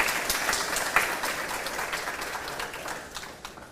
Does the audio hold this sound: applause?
yes